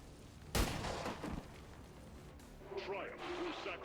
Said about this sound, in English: We do pistol shot on the sentry.